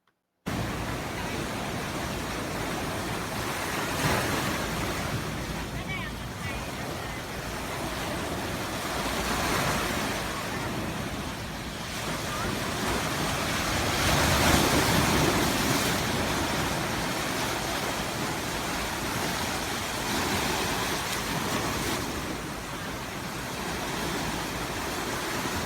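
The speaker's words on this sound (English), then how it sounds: "Speaking of waves, let's go to this." Ocean waves breaking and washing in over and over, a broad steady roar of surf with slow swells in loudness and some wind, heard alone without voices.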